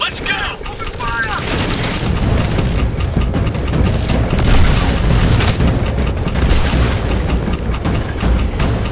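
Sustained battlefield gunfire from Crysis Warhead: dense overlapping rifle bursts and booming impacts roll on continuously and loudly, with brief voice chatter at the start.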